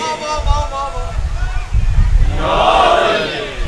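A crowd at a religious gathering shouts slogans in unison, a loud swelling roar of many voices rising after a speaker's amplified chant-like calls.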